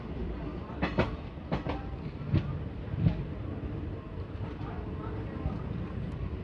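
A train rolls along meter gauge track near Mailani Junction with a low, steady rumble and a few sharp clanks and rattles standing out, fairly distant and moderately quiet.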